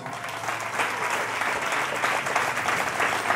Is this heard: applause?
yes